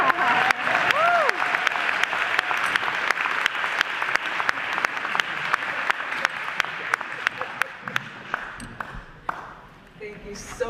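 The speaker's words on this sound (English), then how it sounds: "Y'all can clap." An audience at a community gathering claps steadily, dense applause that fades toward the end, with a few brief voices within the crowd.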